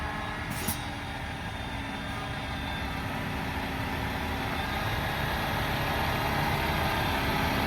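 A tractor engine runs steadily at close range while the machine is eased slowly into position, a continuous low rumble that builds slightly toward the end.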